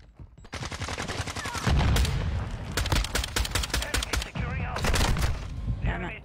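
Rapid automatic gunfire in a video game shooter, dense bursts of loud cracking shots rattling almost continuously with explosive thumps mixed in, no pause between volleys.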